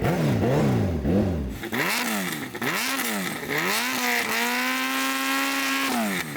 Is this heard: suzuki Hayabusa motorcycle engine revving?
yes